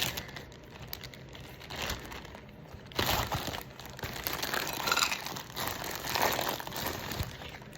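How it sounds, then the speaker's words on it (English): A bag of chocolate chips crinkles and crackles as it is opened, with irregular rustling bursts that grow louder and denser partway through, heard close up with no talking. "Here they are, they're in this bag. So let me just get them out."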